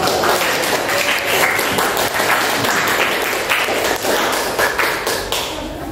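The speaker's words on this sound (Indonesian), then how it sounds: "tepuk tangan untuk kelompok" Students in a classroom clap for a presenting group, a close, uneven burst of hand claps with thumping taps, sustained and then thinning out at the end.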